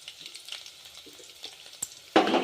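Crushed garlic frying in hot oil in a pan: quiet crackles and small pops, then a louder burst of sizzling near the end.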